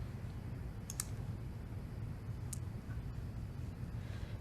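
A computer mouse clicks twice, sharp and isolated, during Windows 10 setup, over a steady low hum of background noise.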